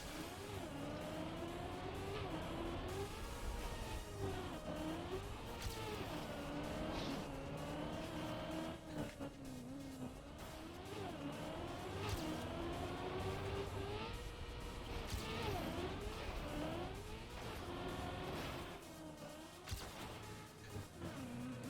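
A race car engine in the Trackmania racing video game revs and roars without a break, its pitch climbing and dropping repeatedly through gear changes and turns.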